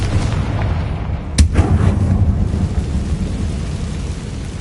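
A Confringo blasting spell explodes in a Harry Potter video game: one sharp, loud blast followed by a rumbling, crackling tail that fades into a steady low background roar. No one speaks.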